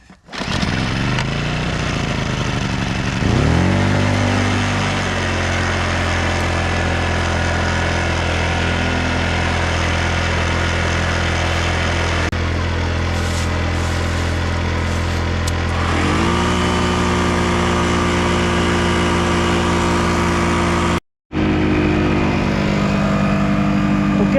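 A small portable air compressor powered from a car's cigarette lighter socket runs at full RPM with a steady, loud motorized drone and buzz. Its pitch shifts slightly partway through, and it cuts out for a moment near the end before resuming.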